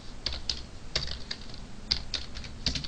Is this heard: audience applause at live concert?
no